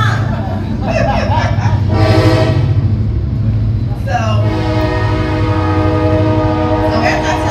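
A train horn sounds loud and sustained in two long blasts as a train passes nearby, over a steady rumble of rail noise, with some talk mixed in underneath.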